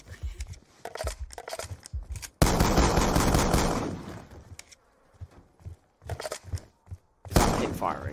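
Automatic gunfire from hip firing in Call of Duty: Black Ops 2, heard in several short loud bursts and then one long sustained burst, with game sounds and occasional talk in between.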